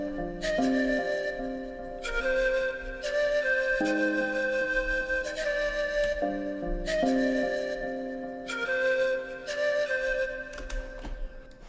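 A dark sample loop built on a flute melody with compression, delay and panning, long sustained tones and echoing trails in repeating phrases over a low rumble, steady and moderately quiet.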